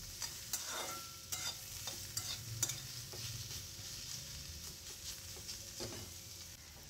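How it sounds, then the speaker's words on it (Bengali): Soft sizzling of pointed gourd frying in a pan, broken by several sharp clinks and scrapes of a spatula stirring, quiet and close. "বেশ খানিকটা পটল ভাজা হয়েছে।"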